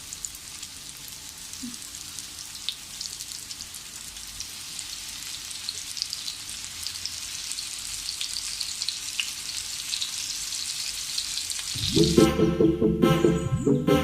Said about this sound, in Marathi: आता अशाच प्रकारे आपण हे बाकीचे चिकनचे जे तुकडे आहेत ते आपण छान असे तळून घेऊया